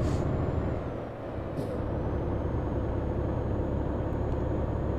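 A truck air brake hisses in Euro Truck Simulator 2, with short bursts of air release near the start over a constant, loud engine and road drone.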